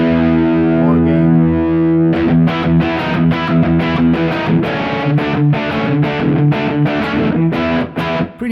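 Electric guitar played through a Super Crunch Box distortion pedal with the gain turned up: a long sustained chord rings out, then loud, driven, crunchy strummed chords and riffs follow in quick succession, with no talking.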